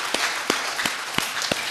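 A church congregation claps during a service, a broad wash of applause with a steady rhythmic beat of about three claps per second.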